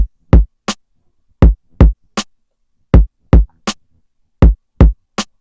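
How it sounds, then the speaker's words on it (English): Short, punchy boom bap kick and snare hits processed in FL Studio, in a repeating pattern, two kicks then a snare, dry and tight with quick decays and no other instruments. "So the kick and snare now sound like this."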